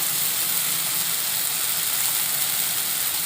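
Turmeric, Kashmiri red chilli powder and other spices sizzle steadily in hot oil while being sautéed, a loud, bright, continuous hiss with no pauses and no voices.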